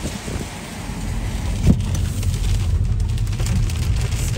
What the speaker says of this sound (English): It's starting to get windy